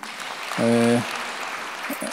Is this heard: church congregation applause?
yes